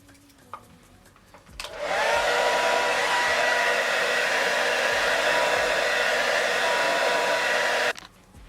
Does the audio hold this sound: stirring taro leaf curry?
no